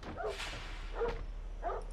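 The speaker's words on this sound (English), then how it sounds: "He's a very good, but very dangerous dog." Dog barking in three separate bursts, moderately loud and close, with short gaps between them and no talk.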